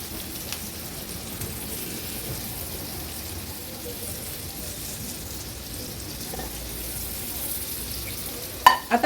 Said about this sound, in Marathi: ही भरलेली कागली आहेत ना ही आपण ह्या तेलावर सोडूया